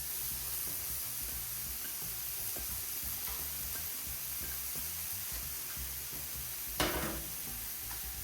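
Steady sizzling hiss of vegetables and onions frying in oil on a Camp Chef flat-top griddle, with soft scraping and stirring sounds and one brief louder crackle.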